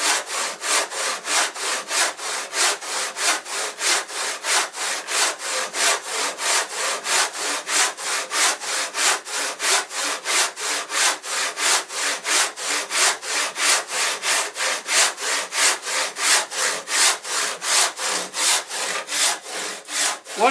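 A hand saw cuts through wood in steady, slow strokes, each push and pull giving a rasping, scratchy burst in an even rhythm, close and alone with no talking.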